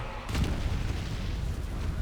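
A single deep, booming shot from a battle in Lord of the Rings: Conquest, a heavy thump followed by a rumbling roar of combat noise.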